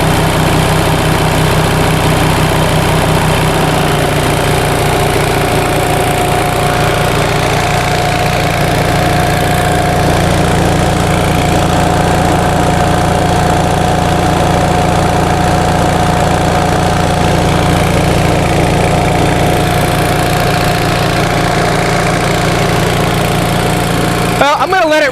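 A 1945 Onan generator engine runs steadily under load, a loud, continuous low drone with a slight shift in pitch early on and a faint vibration throughout.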